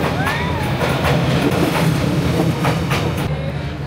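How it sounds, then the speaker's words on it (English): A train rumbles past close by with rhythmic clickety-clack of wheels over rail joints and faint squeals, loud and continuous, with a voice briefly audible beneath the noise. "Train is coming again."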